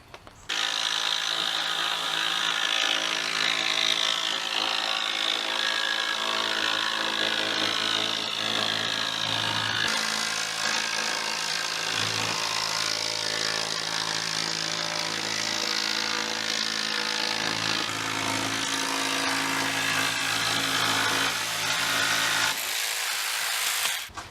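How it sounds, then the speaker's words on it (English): A jigsaw cuts a tapered piece for a boat deck, a loud continuous buzzing whine held at a steady pitch for over twenty seconds, close by, ending abruptly with no talking. "And now I'm gonna get out my jigsaw and cut this."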